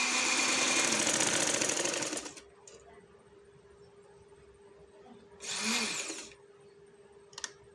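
A sewing machine stitches gum lace onto a kameez in two bursts, a long steady whir of stitching followed by a pause with a faint hum, then a shorter run and a brief click.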